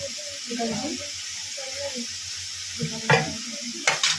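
Chicken masala fries in a pan with a steady sizzle, mixed with stirring scrapes and a couple of sharp clatters near the end, while a voice talks faintly underneath.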